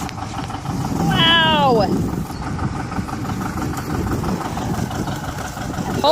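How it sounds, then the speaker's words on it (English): A John Deere 720 tractor engine runs with a steady low rumble throughout, while a voice briefly exclaims near the start. "He's running the John Deere 720 today."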